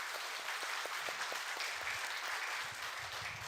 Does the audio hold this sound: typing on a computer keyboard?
no